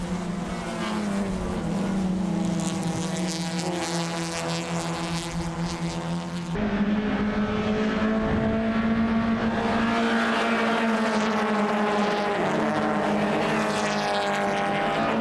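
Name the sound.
race cars driving on a circuit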